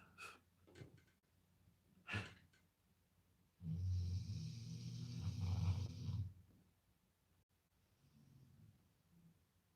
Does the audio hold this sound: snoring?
yes